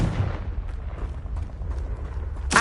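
Confringo fire spell blast in the Hogwarts Legacy video game: a rumbling, booming low-end blast that rolls on for a couple of seconds, then a sharp, bright burst right at the end, fairly loud.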